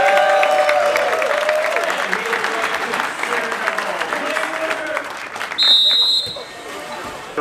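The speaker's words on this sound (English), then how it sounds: "Please give a round of applause for our" Cruise passengers on the deck of a VACAYA gay cruise ship applaud the ship's captain, a broad wash of clapping and crowd noise mixed with voices and a brief high tone near the end.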